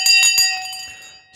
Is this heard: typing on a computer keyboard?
no